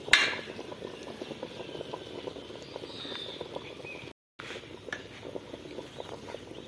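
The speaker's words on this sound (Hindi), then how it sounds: "माशाल्लाह से पानी में बॉयल शुरू हो गया है।" Water coming to a boil in a pot for vegetable pulao, a soft steady bubbling and crackle close by, quiet and continuous with a brief dropout partway through, no talk.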